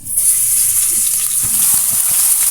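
Ground pork or beef tipped into a pan of sautéed garlic and vegetables for Filipino coconut-milk vegetable stew, giving a steady close sizzle with soft stirring scrapes and light clinks.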